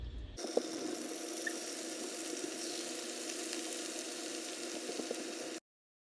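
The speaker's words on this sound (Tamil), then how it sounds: "இப்போ எண்ணெய் நல்லா ஹீட் ஆயிடுச்சு இப்போ வந்து நம்ம சிக்கனை பொறிச்சு எடுத்துடலாம்" Marinated chicken 65 pieces deep-frying in hot oil make a continuous, fairly quiet bubbling sizzle with small crackles, steady from start to end, with no voices.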